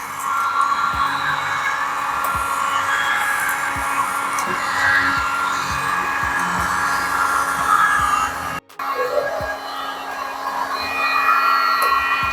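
A hair dryer blows a steady, loud whirring hiss during body work on a slammed AE92 Toyota Conquest, running continuously with a brief cut-out near the end before resuming.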